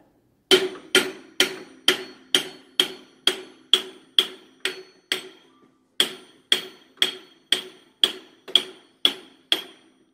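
Sharp, evenly spaced hammer taps on metal while working on a Nissan CVT transmission, about a dozen in steady rhythm, a brief pause, then another run of taps; close and clear, no talking.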